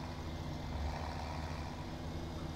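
Tractor engine in the farming game Farming Simulator 2017, a quiet, steady low idling rumble running throughout with no voices.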